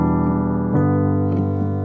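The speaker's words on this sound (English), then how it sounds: "So this is the piano sound." A piano patch on a keyboard plays sustained chords that ring steadily, with a few new notes struck partway through, close and clear with no talking.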